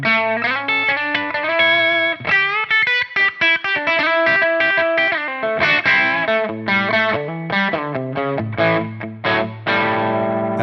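Heavily distorted Friedman-style high-gain guitar tone through the push scene of a Tonex or Quad Cortex amp model, playing a loud, continuous riff of chords and single notes with no talking.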